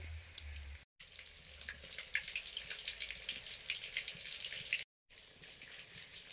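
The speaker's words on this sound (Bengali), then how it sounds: "চিকেন পকোড়াগুলো ভাজতে ভাজতে রেখে দিয়ে চিংড়িগুলো ভেজে নিলাম" Prawn pakoras fry in hot oil with a steady, dense crackling sizzle that carries on nearly throughout, cut by two brief gaps of silence.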